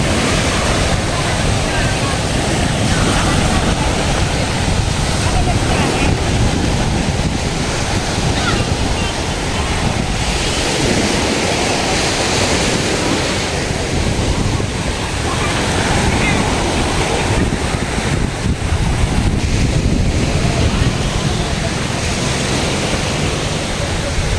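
Waves wash steadily onto the beach at a resort in Ternate, Cavite, a loud, unbroken roar of surf mixed with wind buffeting the microphone.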